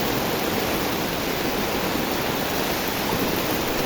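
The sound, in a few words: strong rushing floodwater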